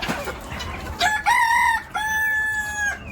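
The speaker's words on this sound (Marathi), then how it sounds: "खूप छान अशा कोंबड्या आहेत" A rooster crows loudly and close on a farm, two drawn-out calls over soft clucking and background chatter of the flock.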